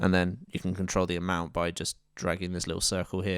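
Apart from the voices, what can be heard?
No everyday noise stands out behind the speech.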